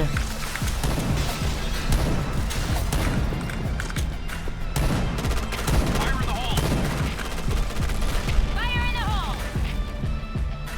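Rapid automatic gunfire from the Point Blank shooter game, dense bursts of shots and explosions running continuously under loud talk and in-game chatter.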